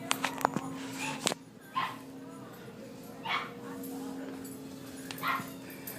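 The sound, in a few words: puppy whimpering and yipping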